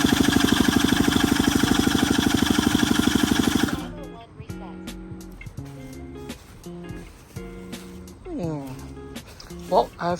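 An Ephil Power 38cc two-stroke engine with auto starter, being run in, buzzes loud and steady at close range for about four seconds, then cuts off, leaving scattered clanks and rattling noises.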